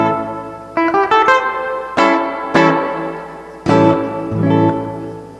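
Electric guitar notes and chords ring out with a splashy, lingering spring reverb tail, played alone in short phrases.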